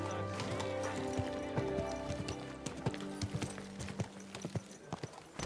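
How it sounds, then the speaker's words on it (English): Horse hooves clip-clop at a gallop in the medieval game Kingdom Come: Deliverance II, a steady run of close hoofbeats over a busy ambient bed, growing more distinct toward the end. "Don't you know how to keep your horse under control?"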